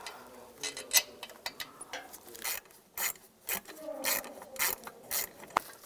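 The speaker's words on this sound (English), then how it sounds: "You could use a 13mm ratchet wrench too." A 13mm ratchet wrench clicks in quick bursts while loosening bolts during spark plug replacement on a 2007-18 Jeep Wrangler, close and crisp with metallic rattles between strokes and no voices.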